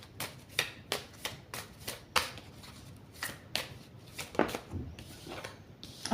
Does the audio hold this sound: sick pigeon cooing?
no